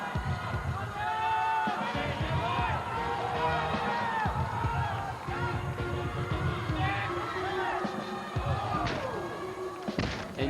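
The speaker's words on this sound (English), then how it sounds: "And you can hear the crowd getting loud, teammates yelling" Inside a college gymnastics arena, a crowd cheers and teammates shout during a routine, with thuds of landings and an announcer talking over the noise.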